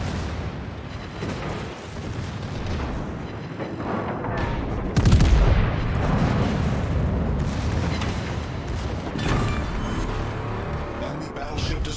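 Warship guns of the German battleship Mecklenburg firing armour-piercing shells in a naval battle game: a single heavy boom around the middle lands over a constant roar of sea and engine noise, with smaller thuds and crackles around it.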